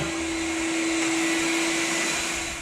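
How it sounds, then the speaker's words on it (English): Vacuum cleaner running steadily on a hardwood floor being refinished, a loud continuous motor whine with a strong steady hum, close and alone without talking. "Got that vacuum action going on."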